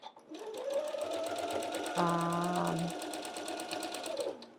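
Sewing machine stitching a quilt block row, a steady fast mechanical whir with rapid regular needle ticks, briefly shifting pitch midway before slowing to a stop.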